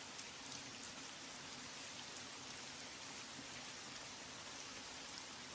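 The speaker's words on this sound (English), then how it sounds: "Man, I really love rain." Rain falls steadily in a dense, even hiss of drops striking a surface. The sound is continuous and unchanging, with no voices.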